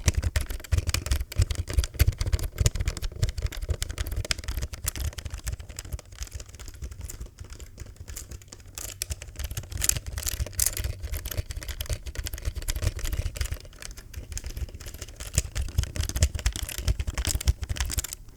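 Continuous close-up typing on a computer keyboard with a rough, clattery key sound, dense steady keystrokes running throughout with no voices.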